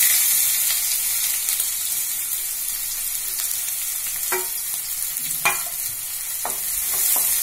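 Garlic and onion sautéing in a pan after asafoetida goes in, giving a steady, loud sizzle throughout with a few sharp utensil clicks and scrapes from stirring.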